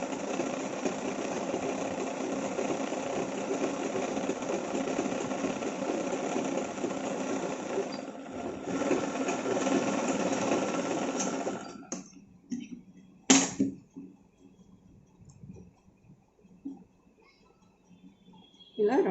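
A sewing machine stitches chudi pant fabric for a skin-tight pant, running in a steady close hum for about twelve seconds before stopping, followed by a few quieter clicks and handling noises.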